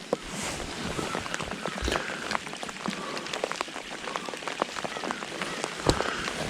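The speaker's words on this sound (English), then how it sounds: "It ain't gonna quit raining" Steady rain patters on a surface nearby during a crappie fishing trip, with scattered sharper drops ticking throughout; no voices, just a continuous wet hiss.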